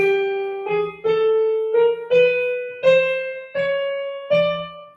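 Sopranos sing a line stepping upward through a series of short held notes, each one slightly higher, with brief breaks between them.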